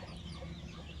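Free-range country chickens cluck in a shaded backyard farm pen, a steady murmur of several birds mixed with low farmyard ambience and no talk.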